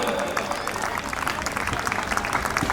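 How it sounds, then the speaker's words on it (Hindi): An audience applauds a stage performance about Chhatrapati Shivaji Maharaj, with crowd clapping mixed with voices and cheers. "एक बार जोरदार तालियां।"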